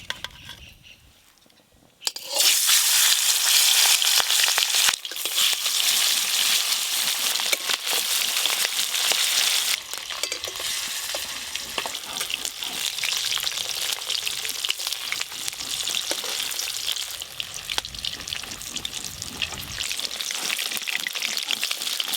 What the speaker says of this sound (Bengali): ইলিশ মাছ ভর্তা আর লেবু ইলিশের জন্য মাছগুলো হালকা করে ভেজে নেব।